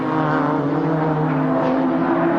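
Ford Sierra touring cars at the Bathurst 1000 in 1991, their engines a steady, loud, continuous droning roar as the racing field holds position, with no pauses.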